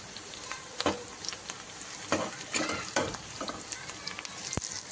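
Turmeric and red chili powder hit frying onions and green chilies for an aloo vada filling, giving a steady sizzle broken by several scraping stirs of the spoon in the pan, close and clear without talk.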